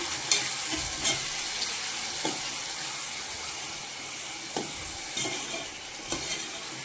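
Tomatoes and onions sauté in a pan with a steady background sizzle, while a utensil scrapes and stirs at irregular intervals, close up and without talk.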